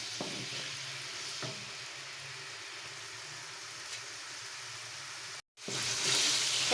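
Potatoes fry in hot oil with a steady, even sizzle that holds at a moderate level, breaks off for a moment, then comes back louder and brighter, for aloo baigan.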